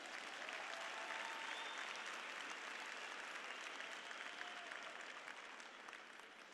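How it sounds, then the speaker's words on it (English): Steady applause from a large crowd at a high school graduation ceremony, a dense even wash of clapping heard from a distance and fairly faint, easing slightly toward the end. "Please give these students and their parents a round of applause."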